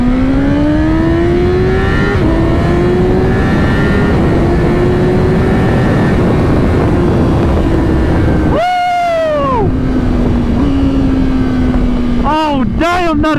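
A 1000cc sport motorcycle with a stock exhaust holds a steady, loud engine drone with a slowly shifting pitch, then revs sharply several times, climbing and dropping in quick bursts near the end.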